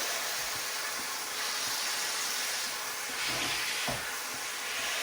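Pork belly searing in a pan for crisp, well-coloured skin, a steady loud hiss of fat with faint pops and a few soft knocks, heard alone.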